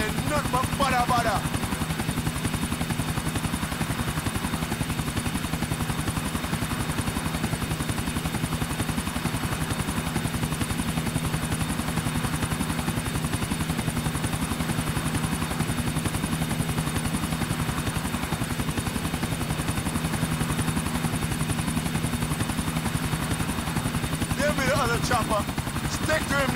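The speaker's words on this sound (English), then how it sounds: "Chopper, stick to him, Nico." A helicopter in Grand Theft Auto IV gameplay thrums with a loud, steady rotor chop and engine whine that persists the whole way, with occasional game sounds and voices mixed in.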